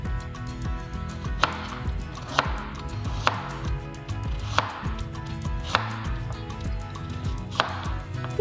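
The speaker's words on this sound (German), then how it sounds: "Die Karotte werde ich halbieren und dann in Halbringe schneiden" A knife chops peeled carrot halves into half rings on a cutting board, with steady rhythmic thuds repeating roughly every second, close and clear, no voices.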